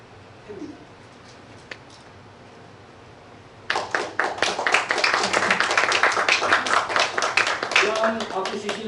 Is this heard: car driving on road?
no